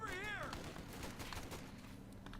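MG42 machine gun fire in a World War II strategy video game battle, bursts of rapid gunfire and distant fusillade at moderate loudness, with a short tonal whine at the start.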